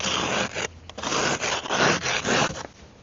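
An ice scraper grates hard-packed snow and ice off a car in a Canadian winter, giving a run of loud, close, rough scraping strokes with brief pauses between them.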